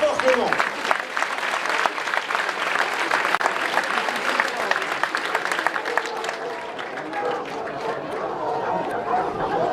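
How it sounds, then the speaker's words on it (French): A crowd applauds at a hunting festival in Moulins with a pack of hounds present; sustained clapping carries a murmur of chatter and talk throughout, with the occasional dog bark in the mix. "On applaudit très fort Clément."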